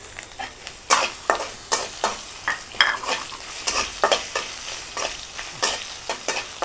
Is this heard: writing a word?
no